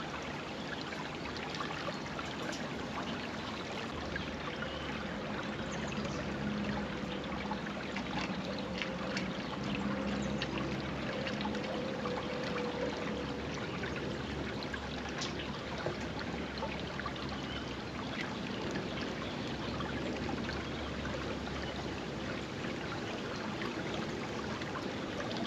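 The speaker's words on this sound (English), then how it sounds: "Hopefully water's going to come gushing out of there any second." Water from a primed pump gushes out of a short piece of hose, a steady broad rushing and splashing flow that runs continuously throughout at moderate level, with no speech over it.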